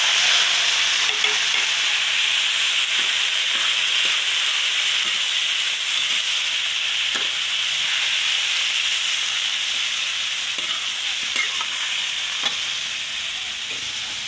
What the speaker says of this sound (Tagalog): lalagay na natin sa kawali